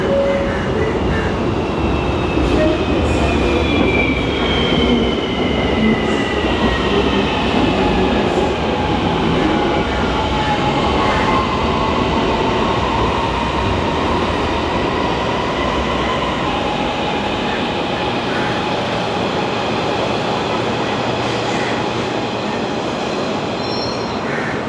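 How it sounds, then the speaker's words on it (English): A metro train roars past close by with a steady loud rumble, squealing wheels and faint clacking that carry on throughout. "And here comes one of the trains."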